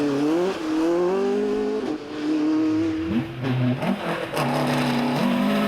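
A 2.5 litre Ford Escort rally car on a wet stage, its engine revving and shifting through gears as it passes, with rising and falling pitch and a brief tyre squeal, fairly close and loud, no talk.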